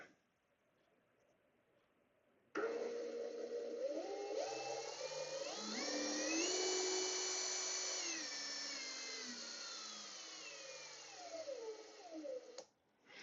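Ryobi ONE+ HP brushless compact impact driver run without load, its motor whine rising gradually in pitch as the trigger is squeezed, holding steady, then winding back down before stopping, close and loud.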